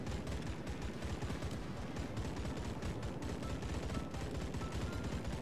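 Anti-aircraft guns on a ship in World of Warships fire in a dense, continuous stream of rapid thuds and cracks, loud and unbroken for several seconds.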